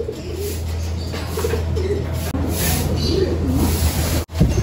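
Pigeons in a loft and aviary give low, steady cooing that fills the scene, close and fairly loud with continuous background noise throughout.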